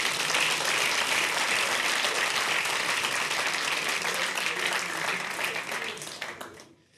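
A large stand-up comedy festival audience applauds steadily and loudly for several seconds, the clapping fading out right at the end.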